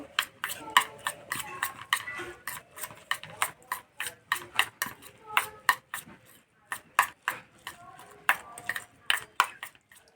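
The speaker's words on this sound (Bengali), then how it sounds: "ডিমটা আলুর সঙ্গে ভালো করে মিশিয়ে নেব" Egg being mixed into raw grated potato in a bowl for crispy flour rolls, a steady run of wet scraping and stirring strokes with light clinks of utensil against the bowl, close and fairly quiet, with no talking.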